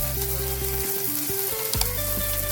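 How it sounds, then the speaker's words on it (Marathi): Finely chopped onion sautés in hot oil with cumin seeds, a steady close sizzle with a few scraping stirs, and a soft melodic tone runs underneath. "आता बारीक चिरलेला कांदा घालून तो हलका पारदर्शक होईपर्यंत छान परतून घेऊया"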